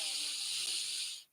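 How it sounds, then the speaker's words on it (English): A slow, deep inhalation drawn in as part of a guided breathing exercise, a steady airy hiss that holds close and even for about a second before cutting off. "breathing in"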